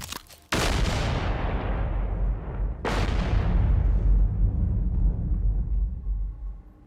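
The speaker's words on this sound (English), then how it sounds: "Yeah, let's trigger the explosion." Explosion triggered in the video game Generation Zero, a loud, close blast followed by a second sharp detonation about two seconds later, each leaving a long, heavy rumbling roar that slowly fades.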